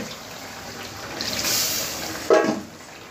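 Water poured into a crab curry cooking in a pot, a soft gurgling pour that swells in the middle and ends with a brief louder splash, fairly close and quiet.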